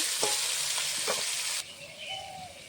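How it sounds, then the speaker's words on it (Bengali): Fish fries in a pan with a dense, close sizzle and crackle, a few sharper spits popping early, then the frying settles into a quieter, steady hiss. "এই সাইডে মাছটা ভাজা হচ্ছে"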